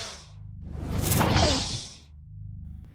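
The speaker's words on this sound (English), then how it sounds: "I walked over to the toy section where I saw this Harry Potter Magical Sounds wand." A Harry Potter Magical Sounds wand toy plays a magical effect: a soft swell that rises into a loud, airy whoosh, falls away, then a fainter hum trails off.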